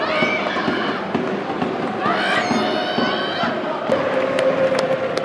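A crowd of people cheers and shouts continuously, with excited voices rising and overlapping throughout, steady and fairly loud, with whistle-like cries near the end.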